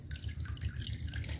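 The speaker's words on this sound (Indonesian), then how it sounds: "kita tiriskan ya tahunya ya." Soaked tofu drains in a kitchen as water drips and trickles in a quick, steady, faint patter close by.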